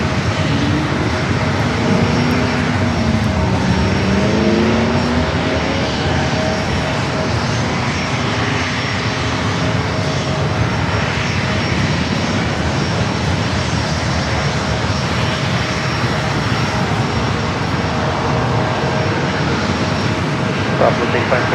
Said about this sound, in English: Next Bravo is a flight coming in from Phoenix, Southwest, flight 1181, 737